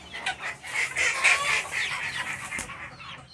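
Chickens at a farm coop cluck busily and close by, a continuous overlapping chatter of clucks and short calls from several birds at fairly loud level.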